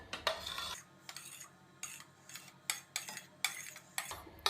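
Chopped boiled eggs go into a mixing bowl for an egg mayo sandwich, making a run of light, irregular clinks and scrapes of utensil against bowl in a quiet kitchen.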